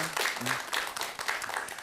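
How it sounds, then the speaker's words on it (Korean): A modest crowd at a Buddhist talk gives a brief round of applause, scattered claps fairly close and moderately loud, with a short voiced murmur near the start. "박수 한 번만 다시 부탁드리겠습니다"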